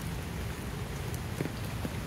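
Rain falling in a botanical garden in Miami Beach, a soft steady patter on leaves and surfaces with a few brighter drips standing out, moderately quiet and continuous with no talking.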